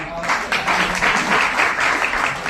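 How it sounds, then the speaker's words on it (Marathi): An audience at a poetry recital breaks into applause, a lively burst of rhythmic clapping that swells and holds steadily, fairly close, with some voices mixed in. "एकदा होऊन जाऊ दे टाळ्या."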